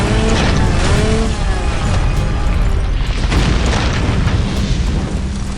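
Loud, continuous booming rumble with bursts and crackling from large explosions and blasts in a Bollywood movie, layered over heavy action noise, dense and sustained throughout.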